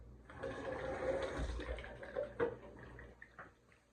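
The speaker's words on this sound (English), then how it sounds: "add some water to the cans" Water gushes and splashes into cans at a sink nearby, swelling then tapering off into a few drips and clinks.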